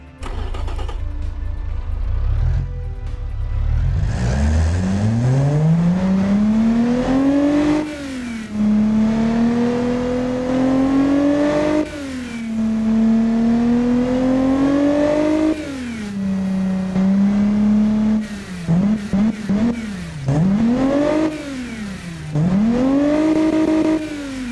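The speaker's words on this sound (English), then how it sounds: "the engine now sounds more powerful because of the low restriction sporty air intake" A stock car engine fitted with a low-restriction sporty air intake and extra ignition timing starts, then revs loudly again and again. Each rev climbs and falls back, ending with quick, sharp blips close by.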